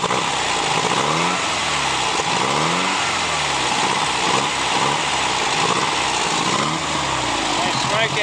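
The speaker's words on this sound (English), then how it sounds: "So I just can show you the engine running over." A car engine runs steadily and revs in repeated surges, loud and close, with a rough mid-range roar throughout and no speech over it.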